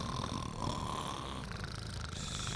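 Several people imitate snoring together with their voices, a steady rasping, snorting drone that continues without a break for a few seconds at close range, with no other talk.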